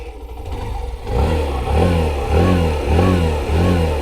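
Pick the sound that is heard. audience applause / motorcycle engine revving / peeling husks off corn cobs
motorcycle engine revving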